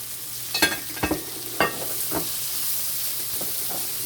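Peppers, garlic and tomatoes hit a hot pan with shrimp, giving a steady sizzle with a few sharp spatters early on and stirring scrapes, then the hiss settles to a softer continuous fry.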